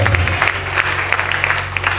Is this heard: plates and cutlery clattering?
no